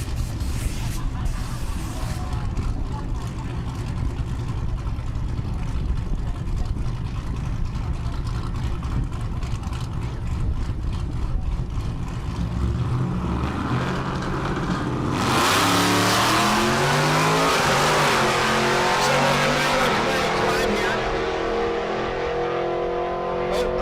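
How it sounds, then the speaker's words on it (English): A 4th-generation and a 5th-generation Camaro drag race at the SRCA dragstrip in Great Bend, Kansas, with engines idling and revving at the line, then a loud launch as one car roars away through rising gear changes before fading down the strip. "Here's a little 4th gen versus 5th gen Camaro action."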